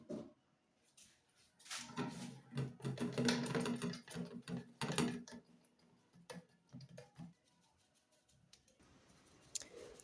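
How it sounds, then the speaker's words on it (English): Flour and baking powder are shaken through a sieve for a Nigerian wedding fruit cake, giving soft, quiet tapping and scratchy rustling in irregular bursts over a few seconds, then fading to sparse light clicks. "So I'm going to sift some flour"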